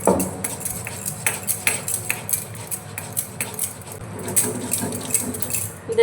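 Mustard and poppy seeds with a little turmeric being ground into a paste, giving a busy run of close, bright clinking and scraping strokes in an irregular rhythm, with no talking.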